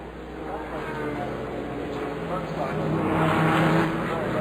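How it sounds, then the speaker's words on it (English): A Rebellion open-cockpit prototype race car roars during the 2013 12 Hours of Sebring, its engine note swelling louder as it passes beneath steady commentator talk. "There we see the other Rebellion car currently driven by Neil Yanni."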